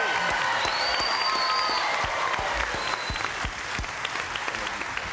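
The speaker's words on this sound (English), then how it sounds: "we'll all have a brisk round of applause for these two people over here" A television game show studio audience gives a brisk, sustained round of applause, dense and even throughout, easing off slightly near the end.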